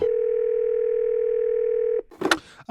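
A steady telephone dial tone hums for about two seconds as a call is placed, then cuts off into brief clicks and a short burst of noise.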